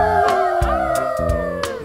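A person imitates a dog's howl with a long, drawn-out, wavering vocal note, loud and close, sliding gradually downward over a couple of seconds.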